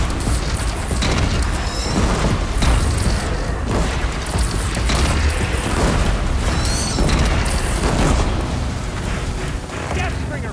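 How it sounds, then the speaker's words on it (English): Deathbringer war machine in Horizon Zero Dawn Remastered unleashing heavy fire, with loud repeated booms and explosive bursts over constant mechanical clatter, dense and close for several seconds. "Deathbringer fire incoming!"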